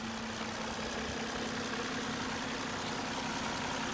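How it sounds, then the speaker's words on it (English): A 2004 Nissan Maxima sixth-generation sedan idles after an HR engine swap, giving a smooth, steady hum with a faint even tone, quiet and unbroken throughout with no talking. "Idling perfect, running fine."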